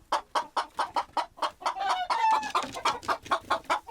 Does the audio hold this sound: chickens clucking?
yes